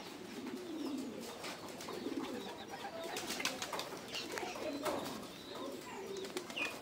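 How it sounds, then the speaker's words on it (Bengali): A restless Afsani gazelle pigeon coos softly in repeated low, rolling phrases close by, with faint chirps and a brief flutter of wings. "অনেক ছটফটে কবুতরটা।"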